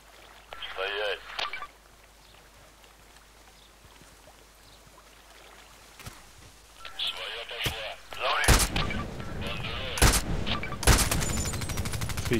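Gunshots in the video game Contract Wars: three or so sharp, loud reports spaced a second or two apart late on, over game ambience and background chatter.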